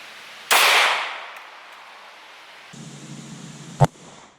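A 9mm Freedom Munitions round fired into a gel block: a sharp, loud gunshot burst with a ringing tail, followed later by a steady hum and a brief sharp crack near the end.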